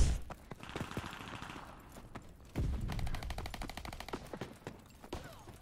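Video game gunfire including shotgun blasts, with sharp separate reports scattered across the clip and a stretch of rapid repeated shots in the middle, over low background noise.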